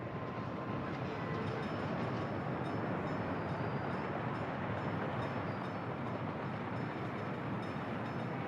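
Trains run continuously along a busy rail line in the city-building game Workers & Resources, a dense, steady rumbling roar with faint rhythmic clatter throughout.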